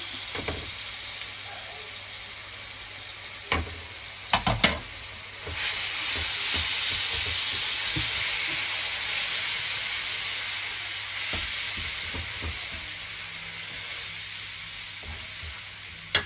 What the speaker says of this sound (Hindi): अब इसको हम भून लेंगे, अच्छा सा भूनना शुरू करेंगे